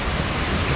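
Rushing water from the waterfall on the Kali River Rapids raft ride fills the moment with a steady, loud broadband roar, continuous and close, with no talk over it.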